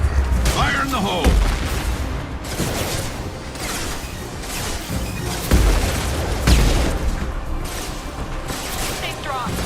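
Explosions and bursts of gunfire in the video game Mass Effect 2, with heavy booms and rattling volleys at irregular intervals, loud and close, and voices in the mix.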